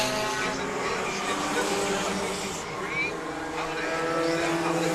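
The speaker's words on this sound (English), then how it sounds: "Hard racing going on here." Front-wheel-drive race cars running on the Indianapolis Speedrome oval during the 2019 Spring Shootout, a continuous engine drone with passing whines, somewhat distant, under a commentator's voice.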